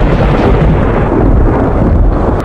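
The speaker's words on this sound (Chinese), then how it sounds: "外面是雷雨大作" A heavy thunderstorm outside fills the whole stretch with a loud, dense, continuous low rumble and roar of pouring rain, with no voices.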